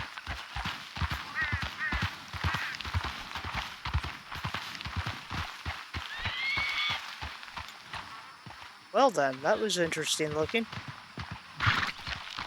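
Horse hooves clopping in a steady rhythmic walk in a Red Dead Redemption 2 roleplay, close by, with a whinnying neigh near the end and someone talking over it.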